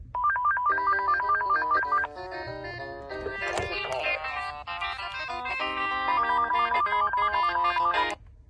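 An AT&T E5960C 5.8GHz cordless phone rings during a test call, cycling through a bright electronic melodic ringtone that repeats steadily at moderate volume, with a few brief muffled handling noises mid-ring.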